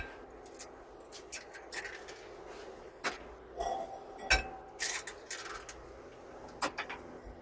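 Eggs get cracked into a bowl in a home kitchen, a few sharp shell taps and clinks scattered among quiet handling noises, close and moderately loud, with no talking.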